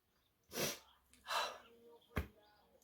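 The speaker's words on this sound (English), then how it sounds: "I think I have to sneeze." A single sharp sneeze bursts out after two breathy inhales, close and fairly loud, then quiet.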